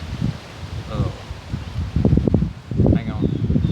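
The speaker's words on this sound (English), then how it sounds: "the wind picked up all of a sudden" Wind gusts through the woods as a storm approaches, leaves rustling in surges with rough microphone buffeting, while someone talks over it.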